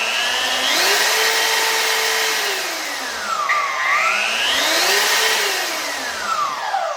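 A DeWalt Deep Cut portable bandsaw runs under variable trigger speed, its motor whine rising and falling in pitch several times, loud and close, with no talking.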